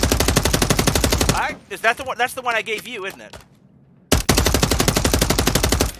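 Rapid automatic fire from an MCW rifle in Call of Duty MW3 Warzone, a dense burst before and after a short pause during which people talk.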